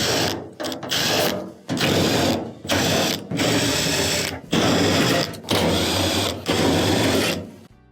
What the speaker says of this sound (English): there are multiple 1/4 inch screws that'll need to be taken off.